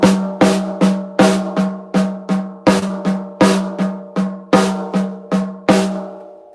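Drum paradiddles accenting the right hand roll steadily, with sharp accented strokes standing out from softer taps in an even, repeating pattern, played loud and close with a resonant pitched ring beneath.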